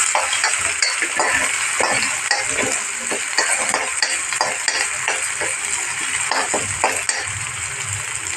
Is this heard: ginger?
yes